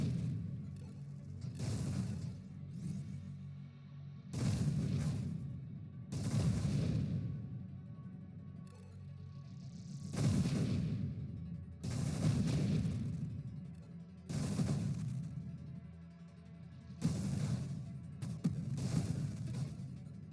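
Rapid-fire railgun shots in the space shooter game Nova Drift, booming bursts repeating in an uneven rhythm with short gaps between volleys, loud and alone.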